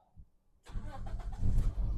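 A 1.8-litre petrol engine in a 2007 Toyota Avensis cranks briefly and catches, settling into a steady, rising idle after a short silence.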